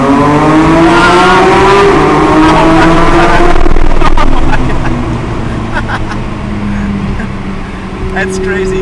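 A 2022 Porsche GT3 drives through a tunnel, its engine note rising and shifting loudly in the enclosed space with tire noise beneath.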